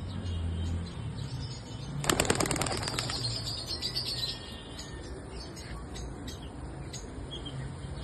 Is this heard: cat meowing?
no